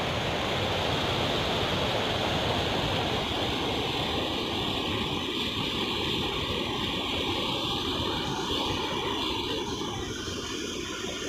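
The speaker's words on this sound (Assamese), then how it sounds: "এয়া চাওক পানী কিমান জোৰত আহি আছে" Floodwater rushes across a paddy field in a village, a loud, steady roaring torrent that holds constant throughout with no speech.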